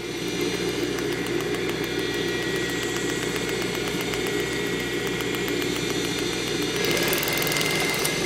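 An industrial overlock sewing machine running steadily while stitching in reverse, giving a continuous loud mechanical whir and hum with a fine rapid ticking throughout and a slight rise near the end.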